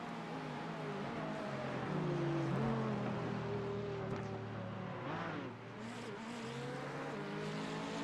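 GT race cars accelerating out of a corner at Mosport during a SportsCar Series round: a loud, sustained engine drone with rising and falling pitch as cars power away, steady and fairly close throughout.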